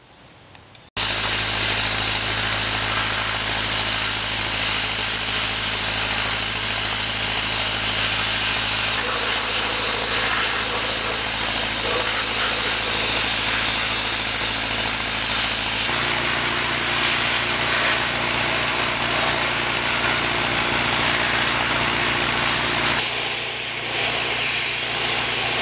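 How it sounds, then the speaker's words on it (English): A sandblaster works on the front end of an original 1940 Ford frame, a loud, unbroken hissing roar that starts abruptly and runs continuously, with slight shifts in tone partway through. "You can watch me sandblast."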